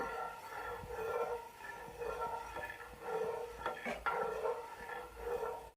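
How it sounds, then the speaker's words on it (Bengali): Milk simmering in a pot is stirred steadily, a utensil scraping around the pan in soft, repeated sweeps. The scraping is quiet and close, with no talking. "ভালো করে সমানে নেড়ে দুধটাকে জাল দিয়ে নেব"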